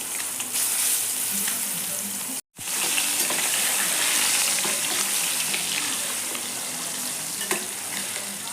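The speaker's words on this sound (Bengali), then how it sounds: "ডিম কয়েকটা লাল লাল করে ভেজে নিচ্ছি" Eggs seasoned with salt, turmeric and chili powder fry in a pan until reddish, making a steady dense sizzle with a brief cut partway through and occasional light clicks, and no talk.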